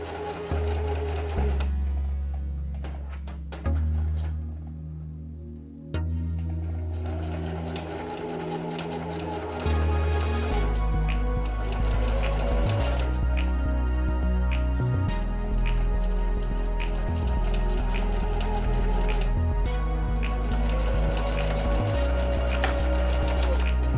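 A sewing machine stitches darts in fabric, running in loud, steady bursts with short pauses and speed changes between runs, alone without talk.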